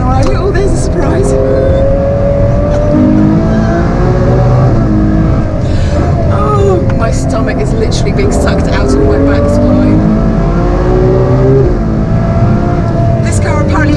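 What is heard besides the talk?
Ferrari car engine on track at Goodwood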